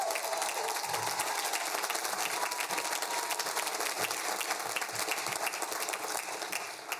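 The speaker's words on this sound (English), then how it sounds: "Can we get a round of applause for all the single parents out there?" A Queensborough Community College Class of 2022 commencement crowd applauds single parents with dense, loud, continuous clapping that stays level for about seven seconds before easing slightly at the close.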